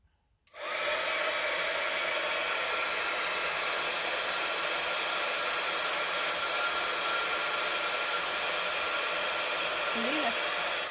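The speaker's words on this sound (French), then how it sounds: "Je reprends mon pistolet. Et je remets un petit coup de chauffe. Et je fais du bruit." A heat gun switches on and blows a constant, loud whooshing roar of air up close, steady throughout with no breaks.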